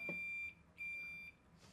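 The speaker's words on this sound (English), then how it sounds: "Neutralizing the buzzer." Electronic quiz buzzer at a campus quiz final, sounding two steady high-pitched beeps, each about half a second long with a short gap between, fairly faint with a soft noise after.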